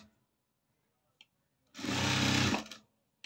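A sewing machine runs a quarter-inch seam on a princess-cut low-neck blouse: one steady, close whirring burst of about a second, framed by a few soft clicks and near silence.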